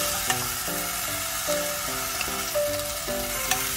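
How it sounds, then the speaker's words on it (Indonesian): Mushrooms stir-fried with seasoning and a little water in a pan, a close steady hiss and sizzle with faint clinks from stirring, no talk. "Teruskan dioseng biar bumbunya tercampur rata"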